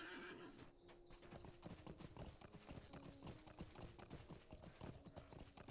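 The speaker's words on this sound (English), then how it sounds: "Let me on my horse now." Horse hooves clip-clop in a steady rhythm, with whinnies and neighs mixed in, while a rider sets off in the online game Lord of the Rings Online; the sound is continuous and fairly loud, with game music beneath it.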